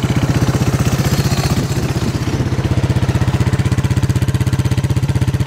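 A Yamaha 225DR three-wheeler ATV engine runs close by just after a pull start, a loud, fast, even putter with steady mechanical clatter, briefly unsettled midway, with no voices.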